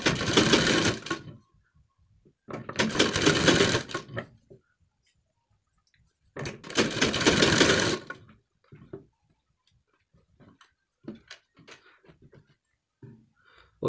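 A sewing machine stitches a collar strip around a curved neckline in three loud bursts of steady rapid running, with quiet gaps of light handling clicks between them.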